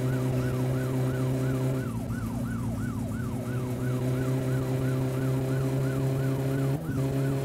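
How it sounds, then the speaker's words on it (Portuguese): A police car siren in the video game My Summer Car wails in steady repeated rising-and-falling sweeps, sounding near and loud over the continuous low drone of a car engine, with no talking. "Os policiais estão chegando, hein, moleque, cara."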